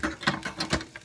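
Salt is sprinkled over filet mignon being prepared for a green peppercorn sauce, falling in a few short, close patters of grains hitting the meat.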